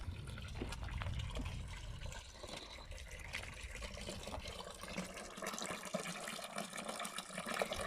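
Water from an artesian well pours steadily into a roadside fountain with a trough, a continuous close splashing flow that stays even throughout.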